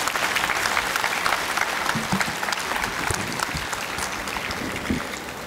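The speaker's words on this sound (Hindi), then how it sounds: "जोरदार तालियों से स्वागत करेंगे।" Loud, steady applause from a seated audience greets the chief guest at a Yoga Day ceremony in Delhi, a dense wash of clapping sustained throughout without letting up.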